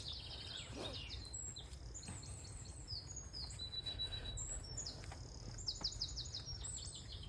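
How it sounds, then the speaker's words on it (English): Several birds chirp and tweet at a distance, with scattered high calls over a steady low outdoor rumble. "Birds are singing."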